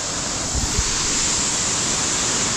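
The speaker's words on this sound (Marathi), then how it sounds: "रोडवर असा बहुत मोठा वाला वॉटरफॉल दिसला आहे, जो की 500 फूट हाईटवरून तर आरामात पडतच असणार" A large monsoon waterfall beside the road in Tamini Ghat, plunging from a great height, gives a steady, loud broadband roar with a couple of low thumps early on. Nobody speaks.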